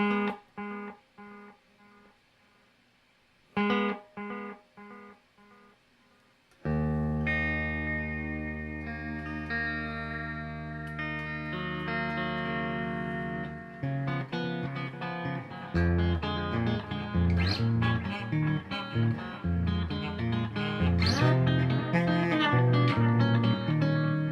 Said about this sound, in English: check out the max delay time on a Caline time-space echo delay